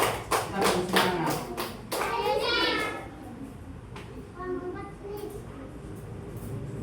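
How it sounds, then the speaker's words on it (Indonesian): Children in a classroom clap in a few short rhythmic bursts for a group, mixed with children's voices and an adult talking, then quieter chatter. "Tepuk tangan untuk kelompok 4"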